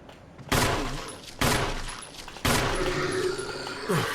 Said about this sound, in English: I'm going to have to use my gun for this one.